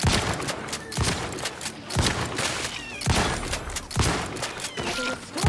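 Steady rhythmic gunfire from a companion fighter in The Outer Worlds, heavy shots landing roughly once per second, loud and close, with scattered lighter crackles between them.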